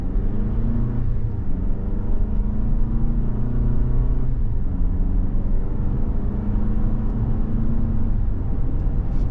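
A 2024 Toyota RAV4 XLE AWD pulls away and accelerates through its 8-speed automatic, a steady engine drone with rising tones that drop back at each shift, heard close from inside the cabin with no talk.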